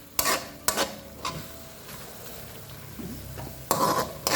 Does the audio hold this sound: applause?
no